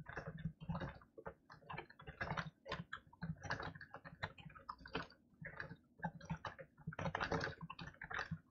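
Rapid typing on a computer keyboard, with close, crisp clicks in irregular bursts and short pauses that continue throughout and have no talk over them.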